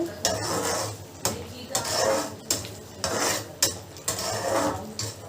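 Crispy fried potatoes being stirred and tossed in a pan for a palak potato gravy, a spoon scraping and clattering against the metal in repeated bursts of roughly one per second, close and fairly loud.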